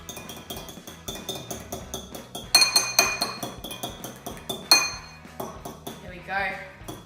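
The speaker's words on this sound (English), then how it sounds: "and then we'll start whisking." An egg is whisked in a bowl for a cheese and Vegemite scroll dough, giving quick rhythmic metal-on-bowl clinks and taps close by, with a couple of sharper hits mid-way.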